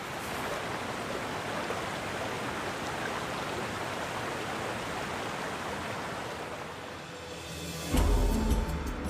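Rapids on the Nile river in Sudan produce a steady, dense rushing roar that fills the scene, ending with a brief low thump.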